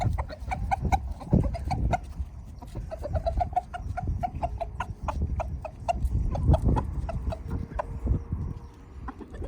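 A flock of farm chickens clucks and chatters in short, repeated calls, with a duck mixed among them, outdoors and close by, fairly steady throughout with no talking.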